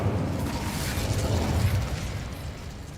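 An Incendio fire spell cast in Hogwarts Legacy: a dense, roaring burst of flame and crackle that fills the whole moment, loud and sustained, with no speech.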